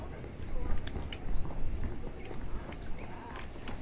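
Horses clip-clop along at a walk in Red Dead Redemption, the hooves landing in an uneven, fairly quiet patter over a short stretch.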